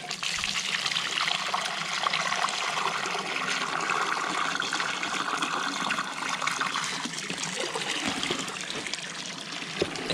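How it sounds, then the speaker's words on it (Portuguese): Water poured steadily into a garden pond while acclimating fish, a continuous close splashing gush that runs unbroken for the whole stretch. "Vou botar água. Já fiz aclimatação, galera."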